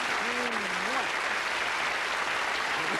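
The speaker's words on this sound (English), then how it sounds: "let's have a nice round of applause for a lovely couple" Steady audience applause at a magic show, a broad even wash of clapping for a couple on stage, with a brief voice rising over it near the start.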